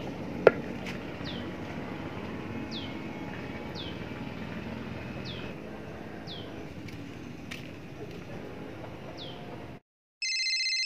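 A phone rings in a repeating pattern of short chirps at a steady rhythm, moderately quiet over a steady background hum, and the hum then cuts out.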